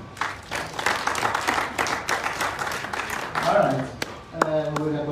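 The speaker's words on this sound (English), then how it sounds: "A round of applause for her." Guests at a surprise 50th birthday celebration for someone break into a round of applause for a woman, with crisp claps rising and thinning as a voice carries over and near the end.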